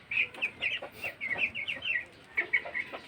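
A rooster clucks repeatedly in quick, close bursts, pausing briefly before a final few clucks.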